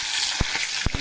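Eggplant and potato pieces fry in a pan with a steady broadband sizzle, broken by a few short, sharp spatters or stirring knocks.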